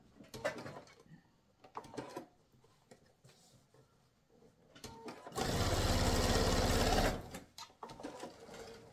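A sewing machine runs in one steady, loud burst of about two seconds while an angled finish is stitched, with quieter handling noises and rustling before and after.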